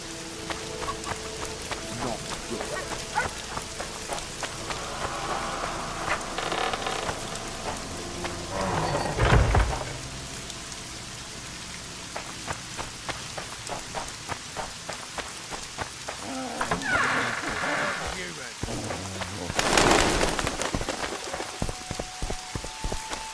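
Rain and thunderstorm in the video game The Witcher 2: steady rain patter and dripping throughout, with rolling thunder swelling twice, fairly full and continuous.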